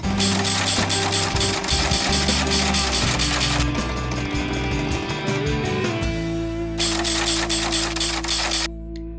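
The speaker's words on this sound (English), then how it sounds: "it's time to spool the line back onto the reel from line spool" Braided fishing line is wound back onto a reel from a spool with a continuous, fairly loud whirring drone that shifts in pitch partway through, pauses briefly, then resumes with no talking.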